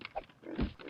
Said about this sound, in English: I hear something. It's a pig! A boar.